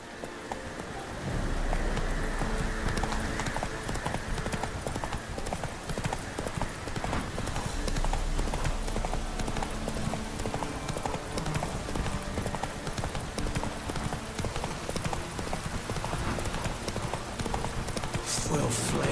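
Geralt's horse Roach galloping in Witcher 3, a fast, steady clip-clop of hooves running throughout over a rain-like wash of background noise, with voices speaking over it.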